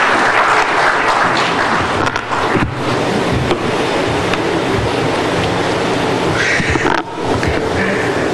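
Audience applause at a live morning show event welcoming the Commissioner General of the GRA, a dense, loud, sustained wash of clapping that continues steadily with a brief dip partway through.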